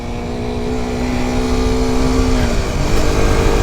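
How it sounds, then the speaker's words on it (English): Kawasaki Ninja 125 motorcycle riding off, its engine droning steadily with a sustained tone that shifts pitch as it pulls away, loud and close, with no voices. "jump on the Ninja 125 and go for a ride"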